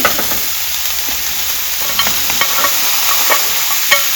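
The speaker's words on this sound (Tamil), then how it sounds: "இதை போட்டுட்டு ஒரு நிமிஷம் வதக்கிடுங்க." Carrots and green peas sauté with ginger and garlic in a pan as veg puff filling. A steady close sizzle runs throughout, with scattered spatula scrapes and taps and no talk.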